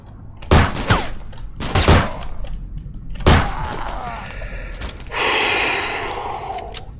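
Several sharp gunshots from a zombie survival game, Nightmare of Decay, crack out at irregular intervals over the first few seconds, followed by a sustained burst of noisy hissing, with a gasping breath mixed in.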